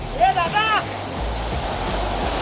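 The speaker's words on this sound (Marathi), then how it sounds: "वॉटरफॉल बघा, हे बघा" A monsoon-fed waterfall at Usgaon roars with a steady, dense rush of water that fills the whole clip, with a brief voice at the start.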